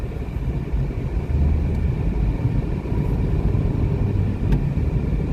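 Car engine pulling away in second gear during a driving lesson, a steady, loud low rumble and road noise from inside the car.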